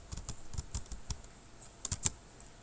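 Keys on a computer keyboard tap in a quick, irregular run of light clicks, close and fairly quiet, with short pauses between bursts and a couple of sharper strikes near the end.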